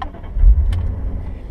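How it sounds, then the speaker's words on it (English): A manual-transmission car's engine cranks and catches at the turn of the ignition, settling into a steady low rumble that stays close and fairly loud throughout. "you got to push the clutch all the way in order to start the car, and then either turn the key or push the ignition."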